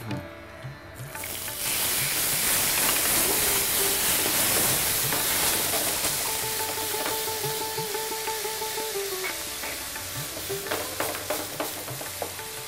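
Cucumber sautés in a hot pan, a loud, continuous sizzle and hiss that settles slightly over time, with scraping stirs near the end and no talk.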